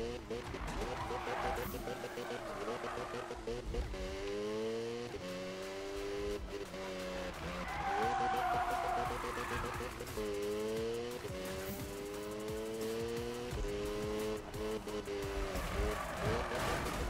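A Mazda RX7 drifting in Need for Speed (2015): a high-revving engine wails and shifts pitch continuously while the tyres squeal and skid through a sustained slide, with someone talking over the racing noise.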